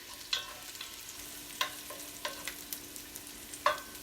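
Dried chorizo cooking in a pan, quiet and close, with a faint steady sizzle under sparse sharp scrapes and clicks of a utensil stirring it every second or so.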